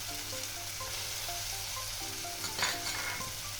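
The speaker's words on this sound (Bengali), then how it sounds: "এবার এটাকে ভালো করে কষাবো আর এর মধ্যে দিয়ে দেবো আমি কেটে রাখা টমেটো কুচি।" Chopped tomatoes and masala stir-frying in a pan for papaya kofta curry, giving a steady, dense sizzle throughout with occasional spatula scrapes near the end.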